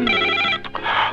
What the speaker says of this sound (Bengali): ডলি, তোর ফোন